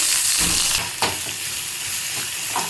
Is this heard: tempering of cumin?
yes